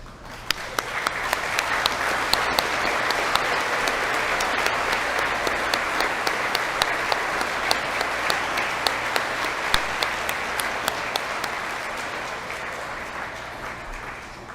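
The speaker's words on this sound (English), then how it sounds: "let's acknowledge them for their contributions with a round of applause" A graduation ceremony audience gives a long round of applause, crisp individual claps standing out within a sustained, moderately loud ovation that slowly tapers toward the end.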